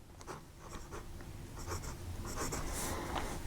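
A Diplomat Classic Collection 1922 fountain pen with a steel nib writes on paper, heard very close. The scratchy strokes are soft and come in short irregular bursts as the letters form, with no voices.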